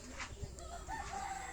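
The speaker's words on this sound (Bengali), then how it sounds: "আমার কামারের মুরগিও ডাকতেছে," A farm rooster crows outside near a cattle shed, faint and distant, a drawn-out call rising over low background rumble.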